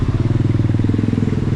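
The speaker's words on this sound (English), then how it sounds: "Now we have to fight with motorbikes" Motorbike engines on a Nairobi road near an expressway exit throb close and loud in a steady, rapid pulsing putter, with no talking over it.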